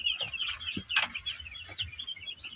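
Broiler chicks about 45 days old cluck and peep continuously at close range, a dense overlapping chorus of short calls with no talk.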